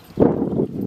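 Cavalry horses at a Civil War encampment drill wheeling through a turn, a short close burst of hoof clatter and scuffing on the ground, heard alone without voices.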